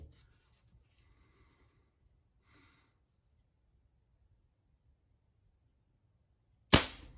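A single sharp, loud crack from an Aselkon MX8 .22 caliber PCP air rifle firing a Crosman pellet, preceded by several seconds of near silence with faint handling rustles.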